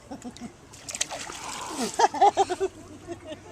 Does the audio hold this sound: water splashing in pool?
yes